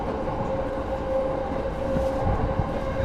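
Steady rumble inside a moving train carriage in Japan, with a faint constant hum and low rattling of the cars; no voices.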